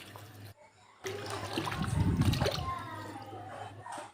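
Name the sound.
jackfruit being washed in water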